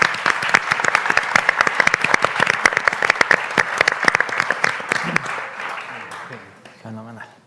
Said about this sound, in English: I will ask you a big clap for the participants